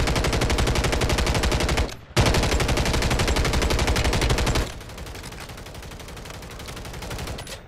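Rapid automatic gunfire from a Call of Duty match in Urzikstan, loud and continuous with a brief gap near two seconds, then a slightly quieter sustained burst to the end.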